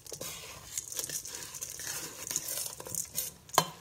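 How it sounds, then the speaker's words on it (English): Southwestern burger ingredients mixed together in a bowl, soft irregular scraping, squishing and clinking of utensil against dish, fairly faint and close, with no talk. "now we mix this together really well"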